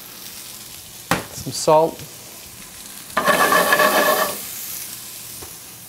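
Onion and potatoes frying in a pan of hot oil, a sharp burst of sizzling that swells loudly for about a second before settling, with a brief clatter and a short spoken remark nearby.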